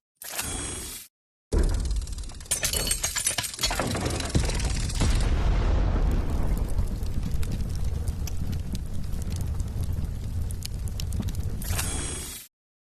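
Packs from a 2025 Topps Series 1 trading card blaster box are ripped open close up, a loud sustained crinkling and tearing of foil wrappers with sharp rustles, and a brief pause near the start.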